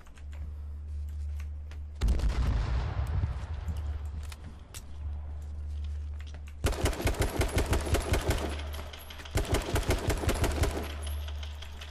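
Gunfire in the video game H1Z1, with rapid bursts of automatic shots over a steady low hum, growing denser and louder in the second half amid sharp cracks.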